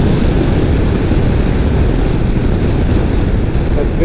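A 1993 BMW R100GS motorcycle riding in fifth gear, a loud continuous low rumble of engine drone mixed with heavy wind buffeting on the microphone, steady throughout with no gaps.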